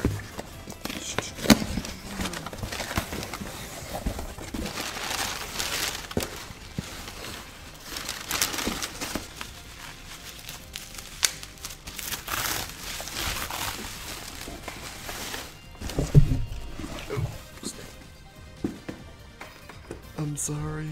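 Plastic packaging crinkles and crackles as a Hyperdimension Neptunia Re;Birth 3 V Generation limited edition game box set is cut free, with irregular close rustling and snapping under a person's ongoing talk.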